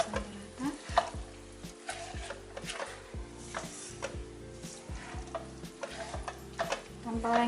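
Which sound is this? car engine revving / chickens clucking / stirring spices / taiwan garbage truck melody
stirring spices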